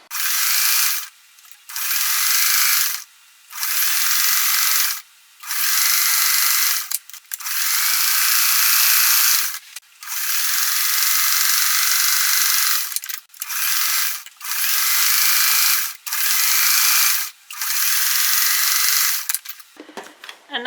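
A sewing machine stitches raw-edge crazy quilt blocks together, running in about a dozen steady mechanical bursts of rapid whirring and clatter, each separated by short silent pauses.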